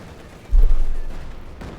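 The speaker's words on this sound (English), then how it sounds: "Obviously being blasted there, we got artillery called in this time around" One deep, close artillery boom from a barrage in Company of Heroes 2 swells and fades out within a second or so.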